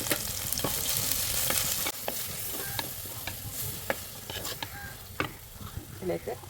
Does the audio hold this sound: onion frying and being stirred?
yes